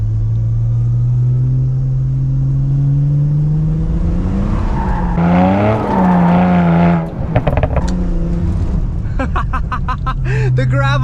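A low-powered car with no boost drifts along a road, tires sliding on the gravel edge: engine droning and rising, tires skidding and scrabbling loudly up close, with a person talking over it.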